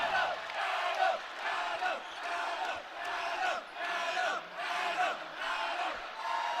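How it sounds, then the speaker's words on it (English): Utah State Aggie fans in a basketball arena raise a rhythmic, pulsing crowd chant and cheer, rising and falling in regular waves at a moderate distance, with faint commentary underneath. "I'm not sure what the Aggie fans are cheering about here."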